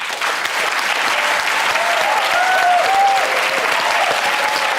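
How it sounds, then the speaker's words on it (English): Studio audience applause at the end of a comedy TV show, a dense, steady wash of clapping held at full strength throughout, with a few whistles rising over it. "Yeah, clap him, go on, give him a clap."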